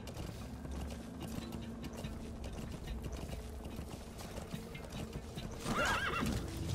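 Steady clip-clop of horse hooves at a walking pace in a video game, with a horse whinnying loudly near the end.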